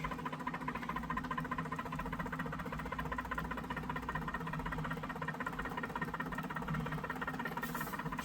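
Neodymium magnet counter rotator spinning steadily, a continuous mechanical whir with a dense rapid hum and fine rhythmic buzz, close and even throughout with no talking.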